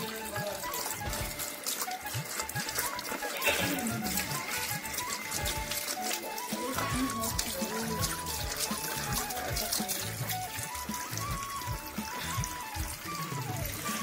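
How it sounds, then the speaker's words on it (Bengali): Banana leaves washed outdoors during a winter picnic in a home garden, with steady running and splashing water, continuous and close, with rustling and dripping throughout. "দেখতেই পাচ্ছেন জোর কদমে কলা পাতা ধোয়া চলছে।"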